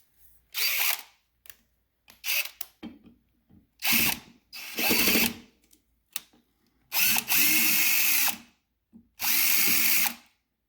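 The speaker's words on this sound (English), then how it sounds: "now we can remove these fasteners here" A power driver or ratchet removes fasteners from the carriage of a Saga Precision series CNC machine, several short loud whirring bursts separated by pauses and light clicks and handling noises, close up, with no talking.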